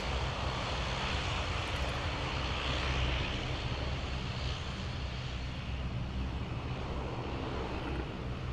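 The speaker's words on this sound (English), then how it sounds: "So this Ryanair is also coming in from Luxembourg." A Ryanair airliner arriving at Dublin Airport, a loud, steady broadband jet engine roar held throughout, heard alone with no one talking.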